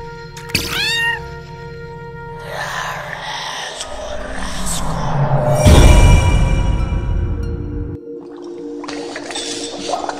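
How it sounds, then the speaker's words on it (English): A cat meows near the start, a short rising-and-falling call, followed by a busy mix of clattering, rumbling and hissing sounds that swell in the middle and then cut to a quieter, hissy tail. "Nice kitty."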